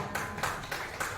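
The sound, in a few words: applause from audience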